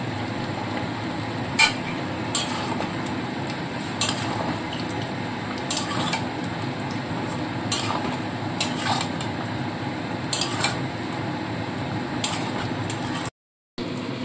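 Ginger-garlic paste with salt is sautéed in a pot for mutton korma: a steady sizzle runs throughout while a spoon scrapes and clicks against the pot at irregular intervals, with no talking and a brief dropout near the end.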